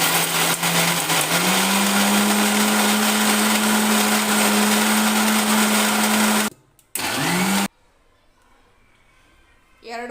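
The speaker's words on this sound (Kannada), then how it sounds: "ಇವನ್ನೆಲ್ಲ ಹೆರ್ಚ್ಕೊಂಡು ಮಿಕ್ಸಿ ಮಾಡ್ಕೊಬೇಕು" A kitchen mixer grinder grinding grated coconut, a loud steady motor whine held for about six seconds, then a brief stop, a short restart that winds down, and quiet after.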